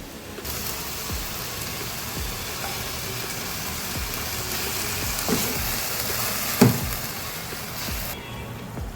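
Pasta sauce, about two cups, goes into sautéed vegetables in a hot pan, making a steady, loud sizzle that sounds like heavy rain, with a few soft knocks and stirring noises near the end.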